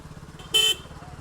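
KTM Duke motorcycle horn giving one short, loud, steady honk over a low idling engine hum.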